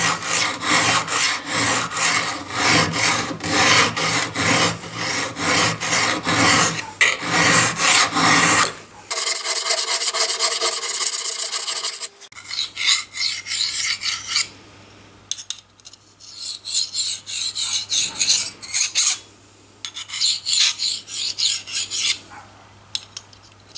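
Repeated rasping strokes of a blade drawn along a fine metal file, close and loud, in steady back-and-forth bursts with short pauses between sets.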